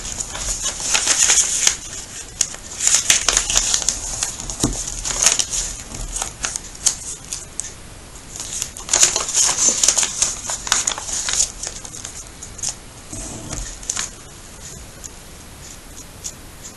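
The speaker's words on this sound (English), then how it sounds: "So I'm just going to continue on and fold all of my pages for my hedgehog" Book pages being folded for a hedgehog book-fold craft: repeated crisp paper rustles and creases in irregular bursts, close by, with quieter gaps between folds.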